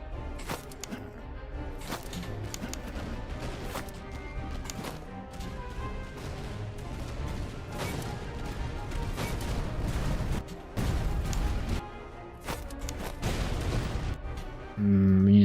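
Volleys of musket fire crackle and pop repeatedly from enemy troops in a Napoleonic-era strategy battle, a steady stream of scattered shots with louder bursts throughout, the firing dense and continuous rather than isolated.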